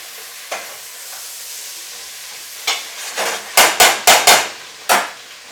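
Pumpkin pieces frying in a pan: a soft background sizzle broken by a series of sharp, close scraping and knocking stirs, several in quick succession near the end.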